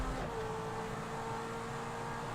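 The stock Zentorno supercar in the GTA 5 video game races with a steady, sustained engine drone and a hint of rising pitch early on, heard fairly faintly and without talk.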